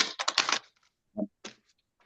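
Quick riffling clatter of cards being shuffled, a dense burst followed by a couple of shorter flicks, close and fairly quiet.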